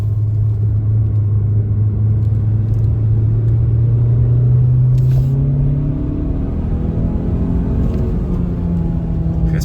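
Mazda CX-30 engine droning steadily from inside the cabin while driving, a loud low hum that holds an even pitch, then rises as the revs climb, with light clicks over it and no talking.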